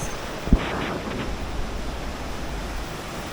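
Tanawan Falls, a waterfall in Dingalan, Aurora, pours with a steady, broad rushing roar, with a single sharp knock early on and no voices.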